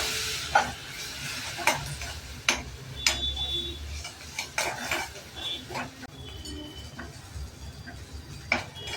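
A soft, steady sizzle of spice paste frying runs under repeated clinks and scrapes of a spoon stirring in a pan, with faint speech in the background.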